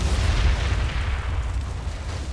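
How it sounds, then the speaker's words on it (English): A big explosion in the video game The Saboteur, a deep booming roar that rumbles loudly and then slowly fades over a couple of seconds. "He survived a big ass explosion."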